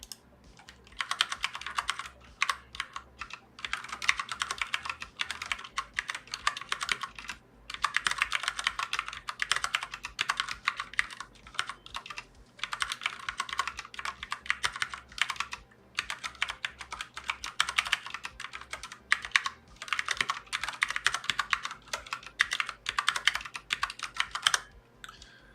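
Fast, steady typing on a computer keyboard during a typing speed practice session, dense rapid clacking in bursts with brief pauses, close and clear with no talk.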